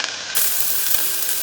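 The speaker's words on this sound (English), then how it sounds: "Okay, so my oil is hot. Let's add onion, green chili," Onion and green chili hitting hot oil in a pan for bottle gourd soup, a bright steady sizzle that jumps up suddenly and keeps crackling evenly, close and fairly loud.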